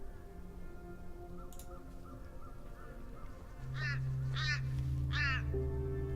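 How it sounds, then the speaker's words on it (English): A crow cawing in the puzzle game Gorogoa, three short harsh calls over a soft, low ambient game soundtrack. "so we got a crow"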